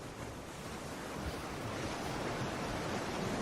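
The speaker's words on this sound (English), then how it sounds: "simply tune in to the ocean sounds that are coming through now" Ocean surf rolls in a continuous broad hiss of breaking waves and wind, steady and fairly close with no voices over it.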